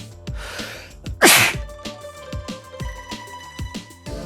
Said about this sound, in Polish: Mam alergię na puste boostery po prostu i kicham wtedy.